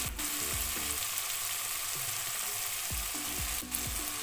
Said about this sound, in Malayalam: ഇത് നന്നായിട്ടൊന്ന് പച്ചമണം മാറുന്നതിന് വരെ നമുക്കൊന്ന് മൂപ്പിച്ചെടുക്കാം.